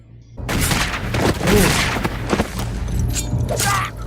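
Heavy gunfire in a western film scene: a dense volley of booming shots and thuds fills the clip, loud and continuous after a brief quiet opening, with a low rumble underneath.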